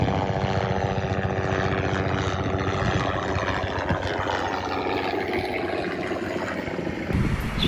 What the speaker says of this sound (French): on revoit l'avion qui est tout là-haut